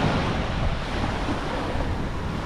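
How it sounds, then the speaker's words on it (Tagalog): Sea waves wash continuously onto a white-sand beach at Panglao, Bohol, a steady broadband surf roar with wind buffeting the microphone and no talk. "Ang ganda ng dagat guys,"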